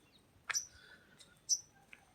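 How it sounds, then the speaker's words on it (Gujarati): Birds give a few faint, sharp chirps outdoors, two clearer calls about a second apart and a softer one at the end, against a quiet background. "પશુ પંખી જો કિલોલ કરે છે"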